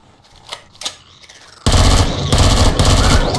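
Gunfire in the video game Empyrion Galactic Survival: two sharp shots, then a loud sustained burst of rapid automatic fire that runs to the end, close and dense.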